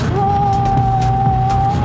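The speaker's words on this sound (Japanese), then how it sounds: "コーナーを回ってます。" A Rover Mini customised to Mark I style takes a corner on a winding road, its engine a loud, steady, close drone with a sustained tonal whine.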